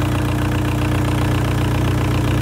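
A VW Golf 4 1.9 SDI diesel engine idles while warming up, a loud, steady, close rumble with an even, fast knocking pulse throughout.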